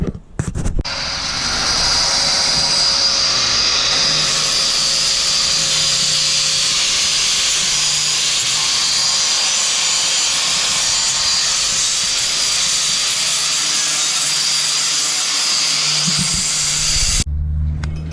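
A power tool cuts out the door of a project car being fitted with Lexan windows: a loud, steady grinding whine runs almost unbroken for about sixteen seconds close by, then cuts off abruptly.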